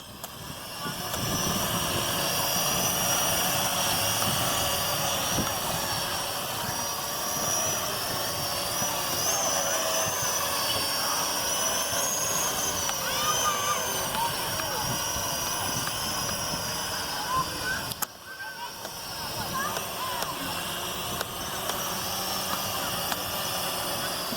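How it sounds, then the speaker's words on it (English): A Venom Pro GPS streaming drone flies over a park, its steady high-pitched rotor whine droning continuously close by, with people talking underneath. "there's the drone again"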